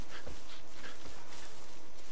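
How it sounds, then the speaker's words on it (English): A dog companion in the video game Far Cry 5 gives a few short yips and whimpers, faint and scattered over a steady low background. "Can I get a dog? Can I actually get Boomer"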